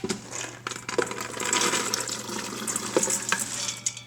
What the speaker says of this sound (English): then we're gonna pour all the beans in there